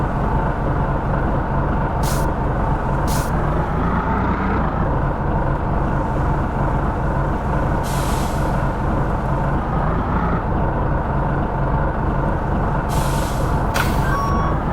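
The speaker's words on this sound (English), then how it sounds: "Let me position my truck." A front load garbage truck maneuvering in a video game: steady loud diesel engine drone throughout, with a few separate bursts of high reversing beeps and air-brake hisses breaking in, no talk.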